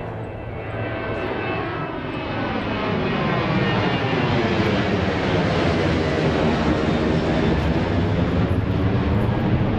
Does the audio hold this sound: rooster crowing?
no